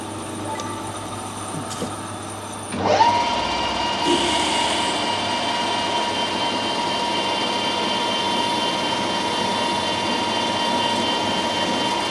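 After a short quiet start, a 6mm drill bit whirs into action and keeps up a steady, high-pitched grinding drone, near and loud, with no talking.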